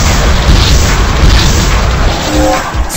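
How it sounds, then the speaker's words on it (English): Airstrike explosion in the zombie video game Zombocalypse: loud, continuous rumbling booms roll on throughout, heavy and close, with no voice. "Airstrike on the way."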